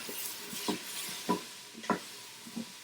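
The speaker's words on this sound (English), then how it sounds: "And then we're going to stir that up." Garlic and salt stirred inside an Instant Pot, with several soft scraping strokes spaced about half a second apart over a light sizzle, close and fairly quiet.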